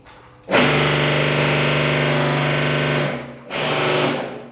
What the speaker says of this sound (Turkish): Önce baramızı deliyoruz.